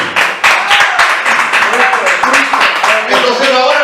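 Congregation in a church clapping together in a quick, irregular patter that runs the whole time, with a preacher's voice speaking over the applause.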